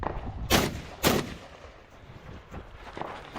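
Rifle shots ring out at targets on a multigun stage at West End Gun Club: two loud, sharp cracks about half a second apart, then quieter echoing reports fading under outdoor background.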